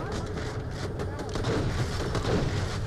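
Rapid bursts of turret gunfire in Borderlands: The Pre-Sequel with heavy booming impacts, loud and continuous, while a person talks excitedly over it.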